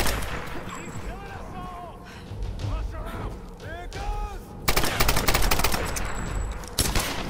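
Gunfire in a Tomb Raider video game: several scattered shots, then a dense run of loud bursts toward the end, mixed with whooshing effects and game sounds.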